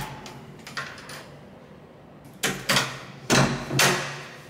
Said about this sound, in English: All I had to do is use the smart lock and tap here.